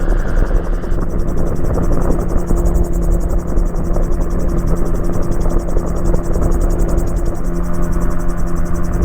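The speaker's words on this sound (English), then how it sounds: "I'm just going to add a little bit of throttle, and that will allow us to maintain our 500 feet." A Magni M16 gyroplane in cruise flight at 500 feet over a lake, its engine and rotor making a loud, constant droning buzz with a steady high whine, heard close and unbroken throughout.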